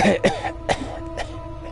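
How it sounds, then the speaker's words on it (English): A video game character in Planescape: Torment gives a rough, ragged cough in several harsh bursts, close and fairly loud, trailing off into a quieter final hack. "breaks into a ragged cough"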